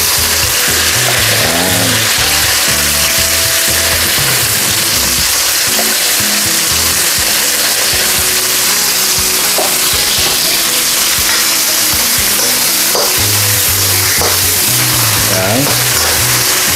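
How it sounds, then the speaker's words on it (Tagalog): Marinated beef frying in oil for a stir-fried beef with mushrooms dish, a steady sizzle running under someone talking throughout. "fry po natin ang ating beef"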